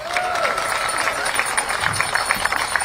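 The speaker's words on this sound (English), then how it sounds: "Give them a round of applause." An audience at an African Landing Commemoration and Soil Blending Ceremony applauds the event staff, steady clapping of a moderate crowd heard over a speaker's amplified voice.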